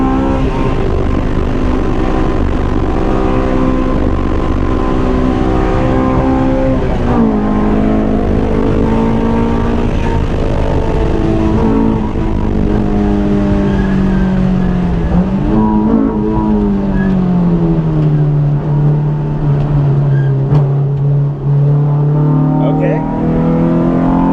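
Honda S2000 AP2 track car engine, heard from inside the cabin, droning loud and steady with pitch rising and falling through gear changes and corners, continuous throughout with someone talking over it.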